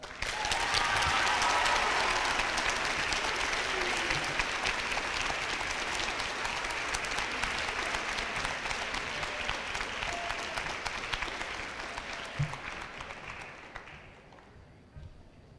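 Sustained audience applause at a school eighth grade awards presentation, steady and full for about twelve seconds before tapering off near the end.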